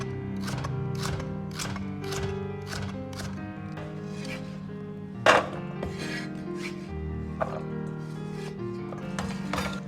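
Knife slicing peeled potato slices into strips on a cutting board with a crinkle-cut blade, a quick run of close, evenly spaced crisp chops with a couple of louder knocks midway.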